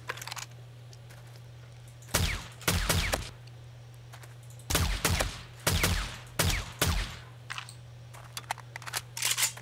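Gunfire in the survival game 7 Days to Die with the Darkness Falls mod, several short sharp bursts of shots in clusters with quiet gaps between them, heard over a low steady hum.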